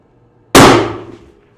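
A single sharp rifle shot from a long-range hunting rifle fired at a steel plate about 500 yards away, one loud abrupt crack followed by a ringing decay that fades over roughly a second.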